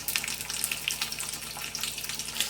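Garlic and onion frying in hot oil for a country-style chicken sambar, a soft steady sizzle with crackly pops throughout, fairly quiet and close, with no talking.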